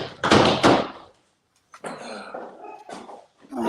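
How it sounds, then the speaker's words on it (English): Dogs bark and growl excitedly in a house while doors are shut nearby, giving two loud close bursts followed by softer scuffling, thuds and yaps. "Let me shut these doors so the dogs won't interrupt us."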